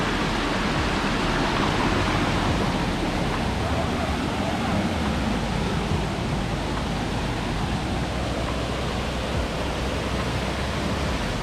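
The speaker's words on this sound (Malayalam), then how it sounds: "നല്ല ഹൈറ്റിൽ നിന്ന് വെള്ളം താഴേക്ക് വീഴുന്നതാണ് കേട്ടോ." Elappally Falls near Vagamon in Idukki, water plunging from a height, heard as a dense, unbroken roar that stays loud and even throughout.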